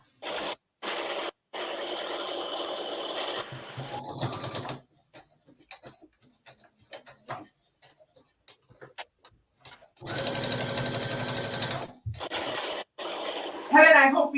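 A sewing machine stitches pockets onto a True Bias Blair skirt. It runs in steady whirring bursts near the start and again midway, with quiet gaps of small clicks and handling noise between.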